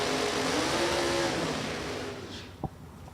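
A Chevrolet S10 drag racing truck at an outdoor drag strip roars loudly with a steady, throaty engine drone that gradually fades, followed by a brief clunk as it rolls up toward the staging lanes.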